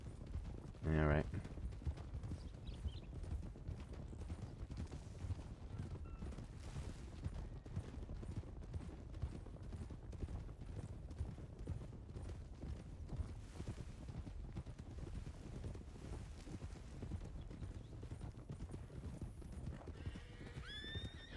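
Game horses in a Red Dead roleplay clopping along at a steady pace, with a loud whinny near the start and creaking tack, hoofbeats continuous throughout while voices talk over them.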